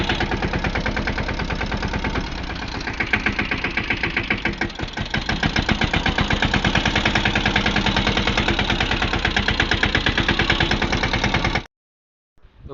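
A Mahindra Yuvraj 215 tractor engine runs loud and close for about eleven seconds with a steady, rapid diesel thumping rhythm, then cuts off abruptly near the end.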